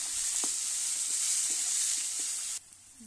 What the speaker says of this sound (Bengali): পেঁয়াজটাকে আমি হালকা ব্রাউন কালারে ফ্রাই করে নেব।